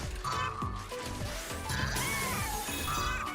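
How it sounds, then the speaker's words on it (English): Glass smashes in the video game Astro's Playroom, with bright crashing shatter bursts and tinkling debris amid game sound effects and a music bed, several impacts across a few seconds. "busting through the glass to get around"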